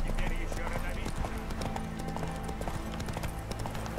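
Horse hooves gallop in The Witcher 3 video game with a rapid, steady clip-clop, loud and continuous, while a voice talks over the hoofbeats.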